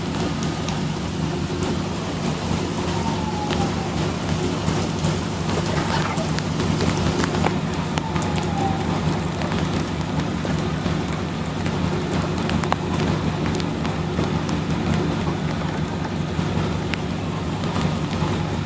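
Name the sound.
rain falling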